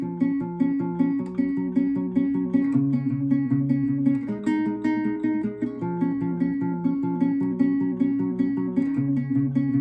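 Steady fingerpicked acoustic guitar figure from verse three of a song (live version), repeated several times in an even, rolling rhythm with clear ringing notes, close and solo without voices.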